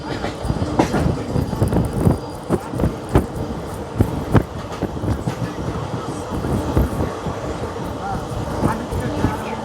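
The Simhadri Express rolls past on Indian rails with a loud, continuous rumble and rhythmic clickety-clack of wheels over joints, while people talk nearby.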